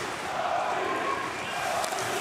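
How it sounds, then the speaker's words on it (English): Ice hockey arena crowd at a Switzerland–Sweden world championship game, a dense steady roar of fans cheering and chanting with faint commentary mixed in. "Russian fans cheering for Switzerland"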